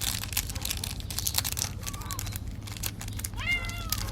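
Two hungry neighbourhood cats let out a couple of short meows while eating, over close crinkling and crunching noises.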